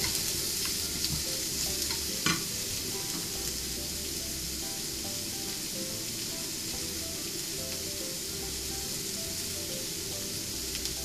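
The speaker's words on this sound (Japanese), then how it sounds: "人参2本炒めていきます。" Two carrots stir-fried in a pan for Japanese ninjin shirishiri, sizzling loudly and steadily up close, with a constant hiss, light stirring rustles and one brief knock early on.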